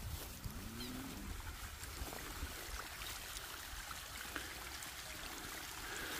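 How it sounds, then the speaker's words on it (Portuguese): Spring water trickles and seeps out of the ground on a country smallholding, a steady low wash of flowing water that runs without a break and carries no voices. "Vou mostrar para você aqui as duas vertentes de água que está vazando aqui."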